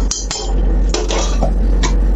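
A metal kadhai set down on the stove, a couple of sharp clanks followed by softer metallic scrapes and knocks close by, over a low steady hum.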